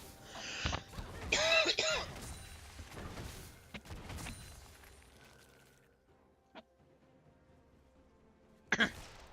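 Several rough coughs and throat clearings close to the mic, a burst early on and another near the end, with quieter shuffling between.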